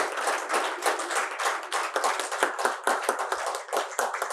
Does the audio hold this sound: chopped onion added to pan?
no